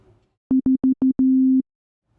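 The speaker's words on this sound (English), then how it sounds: "on this first oscillator here, I'm just going to pull up a sine wave" A pure, steady sine wave tone from a Serum synthesizer oscillator pulses four times in short bursts, then holds one longer note before stopping; loud and clean, no voices.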